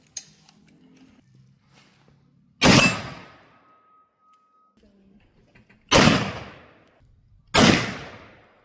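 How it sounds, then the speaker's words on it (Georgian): A replica gun fires at a hanging steel gong, giving three loud, sharp impacts spaced a few seconds apart, each ringing and fading. Quiet low murmurs and small noises fill the gaps between hits. "რამოდენიმე გასროლას გავაკეთებთ გონგზე"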